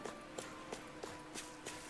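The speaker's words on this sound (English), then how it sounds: "That's a horse." Horse hooves clop in the video game Tales of Arise, an even rhythm of six quiet strikes spaced about a third of a second apart, soft and somewhat distant.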